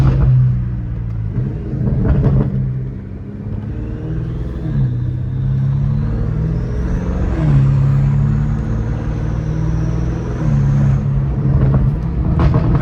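Catless BMW M5 Competition V8 revving steadily with turbo whine rising and falling over a deep exhaust drone, loud and close throughout, with a few pitch swells.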